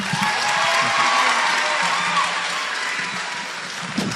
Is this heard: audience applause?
yes